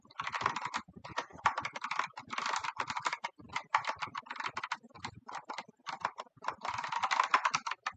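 Someone types rapidly on a computer keyboard while writing C code, with close, crisp key clicks arriving in bursts separated by short pauses and no talking.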